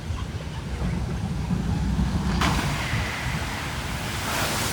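The Playland Plunge, a shoot-the-chute water ride at an amusement park, makes a steady loud rush of water and spray that swells midway as the boat splashes down, heard from nearby.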